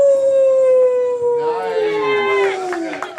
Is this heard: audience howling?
yes